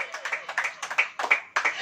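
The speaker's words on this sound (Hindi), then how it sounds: "ताली बजाइए, वो देश है।" A church congregation claps during a sermon, in uneven bursts of hand claps that rise and fall, with voices mixed in among the claps.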